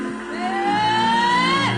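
A church congregation at a worship gathering cheers and whoops for Jesus, one loud rising shout standing out over crowd noise, brief and close.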